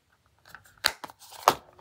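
Small nail scissors being handled, a few sharp close clicks and snips spaced irregularly over quiet.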